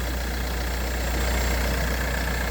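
An Opel diesel car with the A13DTE engine idles smoothly, giving a steady, even drone that holds unchanged throughout with no other sounds.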